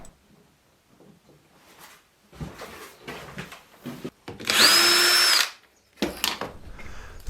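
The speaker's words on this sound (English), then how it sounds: "I'm drilling the pilot hole for the larger holes that I'm going to drill through the ends of these pot holders" A power drill bores a pilot hole through the end of a wooden pot holder, one loud whining burst of about a second, set between quieter handling knocks and shuffling in a workshop.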